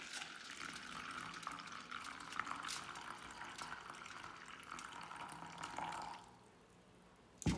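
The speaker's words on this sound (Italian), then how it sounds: "andate a mettere la vostra acqua bollente, questa, andate proprio a versarla nella ciotola" Boiling water is poured into a bowl for cleaning silver, a steady soft splashing and trickling pour that runs for about six seconds, then drops away to near quiet.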